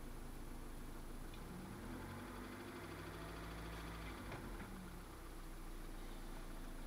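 A Mitsubishi 2.0 GDI 4G94 engine settles back to idle after the throttle is released, a steady mid-low hum that holds evenly throughout with faint vibration.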